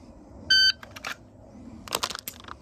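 A shot timer gives one short, loud electronic beep at an outdoor range before a shooting drill with a pistol fitted with a Holosun 507 Comp green dot sight; clicks and shuffling sounds follow.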